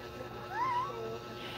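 A house cat gives a single drawn-out meow, faint and slightly rising then falling, over a low background hum with no talk during the call.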